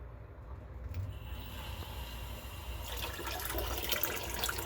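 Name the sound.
electric brewing pump circulating water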